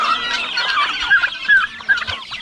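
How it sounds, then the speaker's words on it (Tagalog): Farmyard hens cluck and chatter in a busy, overlapping chorus of short nasal calls, close and lively, with no talking. "Inahin ng manok."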